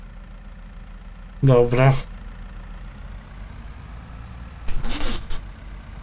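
A tractor engine runs at a steady, low idle throughout, with two short bursts of a voice speaking over the hum.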